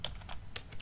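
Mid-profile computer keyboard keys with some give are tapped in a quick burst of about six soft clicks, close and crisp, with no talking.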